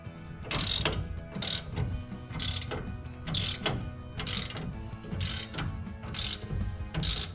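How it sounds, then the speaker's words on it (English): A ratchet tightens the big U-bolts on a Nissan D21 pickup's rear suspension, making about ten steady back-and-forth strokes of crisp, close clicking with no voices. "So now we can take our big old U-bolts and we will get this guy tightened up"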